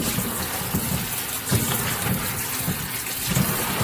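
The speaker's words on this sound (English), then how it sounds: "the first thing you want to do when you bring the peppers home is to give them a good wash" Scotch bonnet peppers rinsed under a steadily running tap, a loud continuous gush of water with small splashy changes as the peppers are moved through the stream, no voices.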